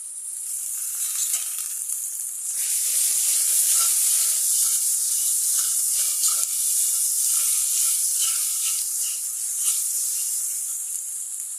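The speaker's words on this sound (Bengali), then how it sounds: "একটু ভাজা ভাজা হোক, কাঁচা গন্ধটা যাক" Ginger and garlic fry in a hot pan for a beef tripe curry, giving a steady, bright sizzle that swells after a couple of seconds and keeps crackling evenly, close up with no talking.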